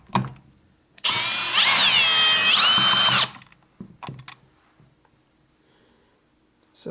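A power driver whirs for about two seconds while backing metric screws out of an ADJ Element Hex IP light, loud and close, changing pitch partway through, followed by a few faint handling knocks.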